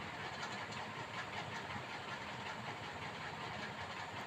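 A sewing machine runs steadily while stitching a lining piece onto a blouse sleeve, producing a continuous, even mechanical whir with no pauses or talk.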